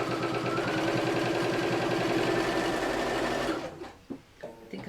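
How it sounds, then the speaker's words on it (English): A sewing machine runs a continuous stitching burst with a fast, even mechanical whirr for several seconds, then stops abruptly, leaving a few soft clicks and handling knocks. "you can shove it under the machine"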